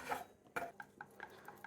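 A spoon stirs milk into sauce in a saucepan for mac and cheese, giving a few light scraping clinks against the pan, soft and fairly close, with no voices.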